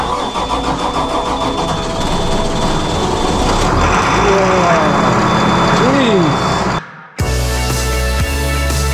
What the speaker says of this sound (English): it's an old diesel engine, so it takes ages for the the diesel to warm up